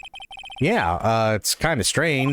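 A short electronic ringtone from a Phoenix Wright courtroom video game chirps in rapid repeated beeps before a person starts talking over the game audio.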